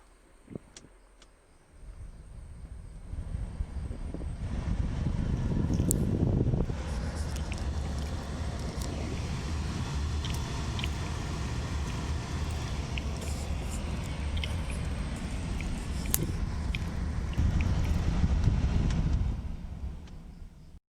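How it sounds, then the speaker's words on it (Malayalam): A car's A/C blower fan switches on after about two seconds and runs as a loud, steady broadband whoosh with a rattle, continuing to the end with no talk. "എന്തോ ഒരു കിലുങ്ങുന്ന ശബ്ദം മാതിരി നമ്മുടെ വണ്ടിയിൽ കേൾക്കുന്നുണ്ട്"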